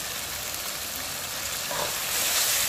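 Chopped tomato hits fried-down masala in hot oil, giving a steady, close, loud sizzle that swells slightly toward the end, with no talking.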